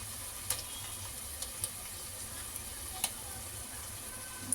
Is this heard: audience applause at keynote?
no